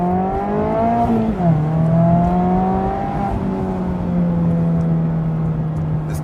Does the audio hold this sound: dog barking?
no